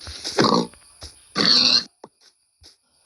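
Pig grunts in the video game Minecraft, two short rough bursts of mid-range grunting separated by a pause, followed by faint clicks and small sounds.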